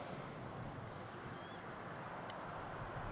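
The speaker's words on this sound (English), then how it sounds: "Definitely the wind is picking up now" Wind blows steadily across an open plane spotting spot at Amsterdam Schiphol airport, a continuous broad rushing roar buffeting the microphone, with no voices and only a faint brief chirp partway through.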